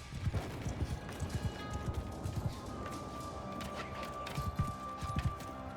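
Horse hooves clip-clop steadily in the samurai battle game Shokuho, a rhythmic trotting patter beneath a dense wash of battlefield ambience, moderately loud and continuous.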